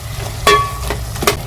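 Spoon stirring cayenne and black pepper together in a pan: two short scraping strokes about a second apart over a low steady background hum.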